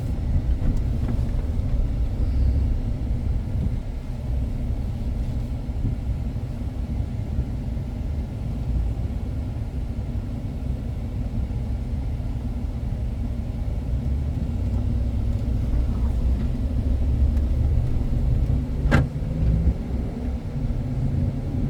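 A 2009 Dodge Ram 1500 pickup truck driving on the road, its engine a steady low rumble heard from inside the cab, gradually building as it accelerates, with no talking.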